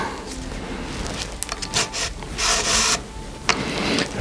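Needle and thread drawn through a wide strap by hand, with scratchy rubbing pulls and brief rasping swishes, close and fairly loud, with no talking.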